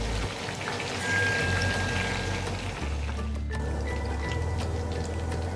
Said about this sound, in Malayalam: അടുത്ത സൈഡും കൂടി നമുക്ക് ഇതേപോലെ തന്നെ ഫ്രൈ ചെയ്തെടുക്കാം.